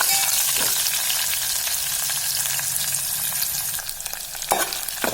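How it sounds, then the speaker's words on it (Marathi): Sliced onion and chopped green chilli fry in a pan as they are stirred, giving a close, steady sizzle broken by scraping spoon strokes, louder near the end. "नीट कांद्याला भाजू द्या."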